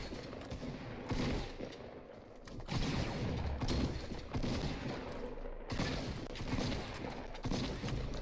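Gunshots in Fortnite, repeated loud bursts of firing spread across the clip with brief gaps between them and mechanical clatter mixed in.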